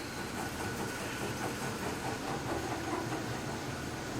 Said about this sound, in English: I got my fan going.